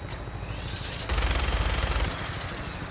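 Rapid automatic gunfire in the video game Fallout 4, a single dense burst of about one second that cuts in sharply over a low ambient hum and then stops, fairly loud and close.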